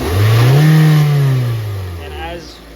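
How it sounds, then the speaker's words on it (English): A car engine revs up briefly from idle during a MAP and MAF sensor lab check, a loud, close rising roar that peaks and then settles back down. "Rev it a little bit"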